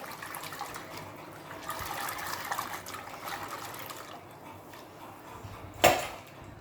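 Betel nuts are swirled by hand in a bowl of salted water, a sloshing, trickling wash of liquid that rises and falls, ending with a sharp clunk, close by and with no talking.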